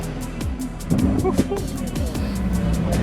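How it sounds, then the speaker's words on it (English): Ferrari at a car meet giving a couple of short, light revs, its engine note rising briefly over people chatting nearby and the steady idle underneath. "Give it a couple baby revs as well."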